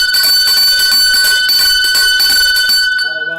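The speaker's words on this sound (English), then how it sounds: "Ring the bell." A metal bell being rung vigorously, a loud rapid clanging that continues for about three seconds before ringing out and fading, with no speech over it.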